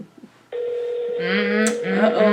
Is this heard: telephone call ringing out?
yes